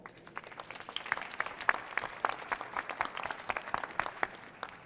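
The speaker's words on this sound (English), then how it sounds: "Please give him a round of applause." An audience at a business expo gives a round of applause for a sponsor, scattered, distinct hand claps from a modest crowd that form a steady ripple throughout with no voices.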